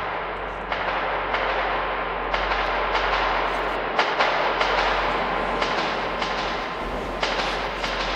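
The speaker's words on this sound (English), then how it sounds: "Ghost trains." Ghost trains roar through a tunnel in the video game Metro 2033, a dense, continuous rumbling wash broken by repeated sharp clanks and thuds, with no voices.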